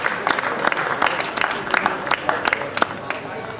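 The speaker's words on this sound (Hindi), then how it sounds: "तो सपना गजल के लिए जोरदार ताली होनी चाहिए।" Audience applause for a stage actress at a Pakistani drama event, loud close clapping with distinct sharp hand claps standing out from the crowd throughout.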